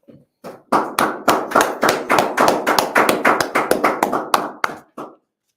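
A small group claps in a room, a sparse start building into a run of loud, sharp, closely spaced hand claps before trailing off into a few final taps.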